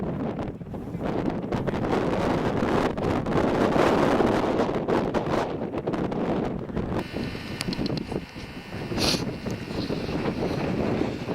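Strong wind roars and buffets the microphone outdoors in cold weather, a loud continuous rushing with gusty surges, no talking heard.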